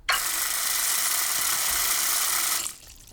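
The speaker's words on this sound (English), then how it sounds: "When I turn the water on now," Tap water runs steadily from a kitchen sink faucet into a drain strainer, a loud continuous splashing hiss that cuts off near the end.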